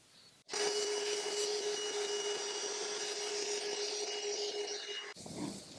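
A vacuum cleaner, its hose end covered with fabric, switches on with a steady whining drone that holds for about five seconds before cutting off abruptly.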